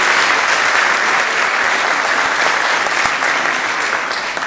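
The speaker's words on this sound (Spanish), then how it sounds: "Un aplauso para todos ellos." Sustained, dense audience applause at a Peruvian song-and-dance festival event, steady and fairly loud throughout with no voices over it.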